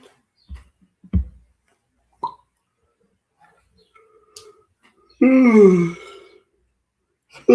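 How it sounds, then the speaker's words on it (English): A single long human yawn rises and trails off close to the microphone during a live hockey draft broadcast, preceded by a few faint clicks and thumps in near silence. "Sorry for the yawn there."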